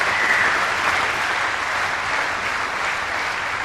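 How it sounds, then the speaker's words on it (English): A squash crowd at the 2003 Super Series finals breaks into steady, sustained applause from many hands, with a faint wolf whistle near the start. "Nicol getting a few wolf whistles from the crowd"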